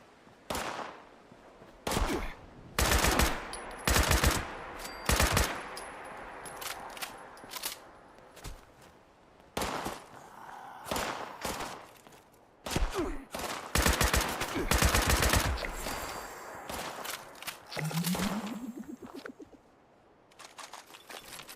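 Scattered enemy gunfire in a wasteland video game, with sharp shots and short bursts cracking at irregular intervals across the scene, some close and loud, others fainter, over a steady bed of ambient noise.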